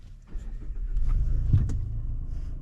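A 2023 Mazda CX-30 with the 2.5 engine cranks and fires up close by, then settles into a steady, low idle rumble, alone and without talk.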